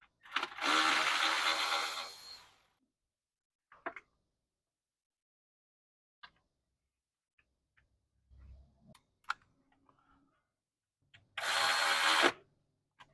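A power tool whirs in two short bursts, loud and close, while a T30 bolt is removed from the plenum of a 120HP Sea-Doo-style Base X3 during a blow-off valve kit install, with small clicks and tool handling between runs.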